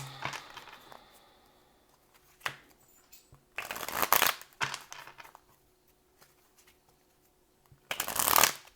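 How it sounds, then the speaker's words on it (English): Several bursts of tarot card shuffling, riffling loudly at intervals with quieter shuffling and faint handling noises between them, close to the listener. "I'm going to do one more shuffle"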